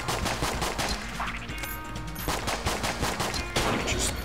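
Rapid gunfire from the video game Enter the Gungeon, a dense stream of sharp shots and impact bursts filling the whole stretch, loud and close, with game effects layered underneath.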